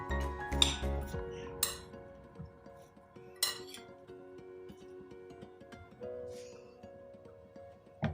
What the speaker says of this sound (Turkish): Soğanlarımızı da katalım. Tekrar karıştıralım.